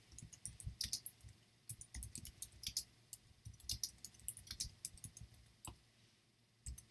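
Soft, quick clicks of a computer keyboard being typed on in irregular bursts while entering text for a photo edit, faint and close with no speech.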